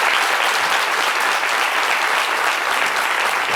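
A French daytime TV studio audience gives a steady, dense round of applause as a guest departs, loud and continuous throughout with no voices over it.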